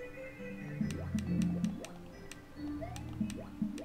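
Water drips in the Super Talking Time Bros. 2.5 video game, with a few light, evenly spaced drip ticks over low, melodic game tones throughout.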